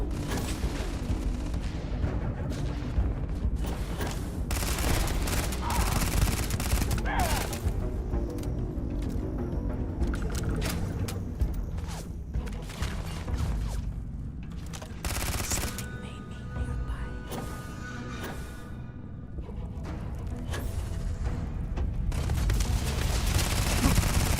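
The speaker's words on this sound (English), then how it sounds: "everybody under the sun is shooting at me" Heavy enemy gunfire in Starfield, dense rapid shots and loud bursts throughout, near and continuous with brief lulls, no talk over it.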